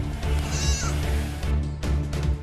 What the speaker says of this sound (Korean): 우리의 양과 염소들이 일제히 울기 시작했다